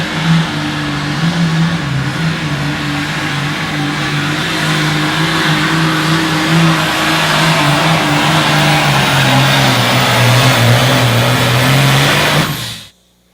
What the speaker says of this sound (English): How about a white tractor going down the line?